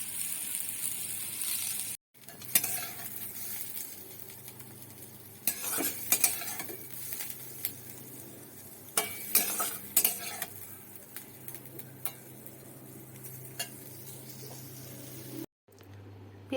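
Onion, garlic and chilli being stirred in a pan near the end of frying, with steady scraping of a utensil against the metal, occasional clinks and a low sizzle, fairly quiet and close throughout, with no talk.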